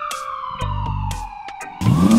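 An ambulance siren in a cartoon game scene wails steadily with a slowly falling tone, loud and continuous under brief thumps and a rising whoosh near the end, no voices.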